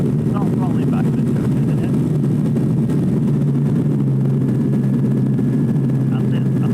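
A motor glider's engine drones steadily in flight as it throttles back, a loud continuous hum filling the cabin with a slight drop in pitch partway through, while people talk over it.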